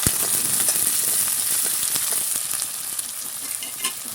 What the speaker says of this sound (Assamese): দি দিলোঁ আমি পিঁয়াজখিনি, এইখিনি এতিয়া ভাজি ল'ম।